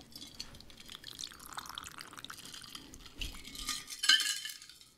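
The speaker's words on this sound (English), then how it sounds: "I'm going to pour it half into my glass" A gin cocktail poured from a shaker into a glass, a soft trickling splash with light clinks of ice and glassware, rising to a brief louder clatter near the end, close by and without talk.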